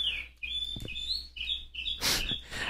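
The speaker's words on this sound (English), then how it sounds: "that bird is actually going crazy" Bird chirping wildly outdoors, a rapid run of high tweets and calls repeating across the whole stretch, with a louder burst near the end, heard alone without speech.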